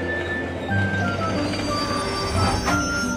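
A cartoon train pulls in to deliver a podium and ramps, with squealing wheels, steady rail rumble and a faint whistle-like tone, continuous and close.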